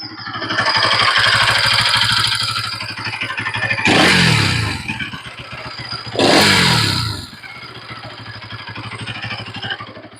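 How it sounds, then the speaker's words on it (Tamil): A 2025 Bajaj NS200 motorcycle engine idles close by with a steady, throbbing chug, broken by two sharp throttle blips that rise and fall quickly. "ஃபஸ்ட்டு இன்ஜின் நாய்ஸ் காமிச்சிடுறேன்"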